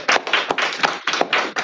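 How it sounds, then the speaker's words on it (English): A small audience at a gathering claps in a short burst, a few loose, uneven hand claps close by with no talking over them. "Y'all give them a round of applause."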